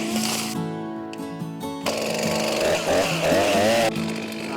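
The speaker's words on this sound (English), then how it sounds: "I think I'm gonna have to get the other chainsaw to cut this." A chainsaw cuts through sweet gum trunks being felled for firewood, its engine loud and close, bogging and surging in pitch as the bar bites into the wood, with no talk over it.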